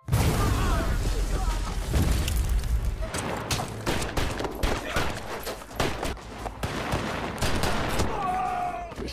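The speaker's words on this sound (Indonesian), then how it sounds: "Dan baku tembak pun dimulai." Gunfire crackles through a shootout scene in the 2019 film The Hard Way, with dense bursts of rapid shots and booms over several seconds, loud and close.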